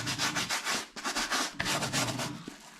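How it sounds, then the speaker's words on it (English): An old nail brush scrubs a baseball cap in fast, rhythmic back-and-forth strokes, loud and close, with bristly rasping and no voices. "just give it a quick scrub."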